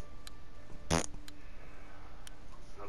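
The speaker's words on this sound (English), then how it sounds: "That's a beer burp." A single short, loud burp from a beer drinker bursts out about a second in, with quiet background sound before and after.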